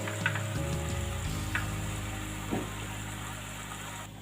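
Green chillies dropped into a frying pan for a bottle gourd curry, a steady close sizzle of hot oil with a few soft stirring clicks and a low background hum.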